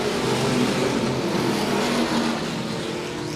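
Race cars roar around the turns of a dirt oval speedway during a heat race, a loud, continuous blended engine drone that eases slightly as the cars pass.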